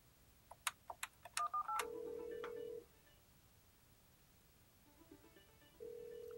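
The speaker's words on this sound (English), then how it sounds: "I simply dial the extension, and away I go." Keypad tones on an Alcatel-Lucent 8068s desk phone as an internal extension is dialed: a quick series of short beeps, then a steadier tone and a later sustained tone, close and clean with no speech.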